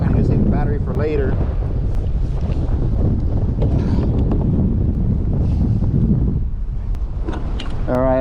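Strong wind buffeting a microphone on a kayak with a trolling motor on choppy water, a constant heavy low rumble throughout, with someone talking over it in places.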